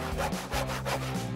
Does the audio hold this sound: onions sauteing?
no